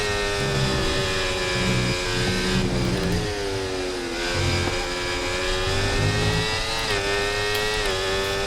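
An F1 race car engine in the F1 24 video game screams at high revs, its pitch rising through gears and dipping briefly on downshifts, loud and continuous with no talking.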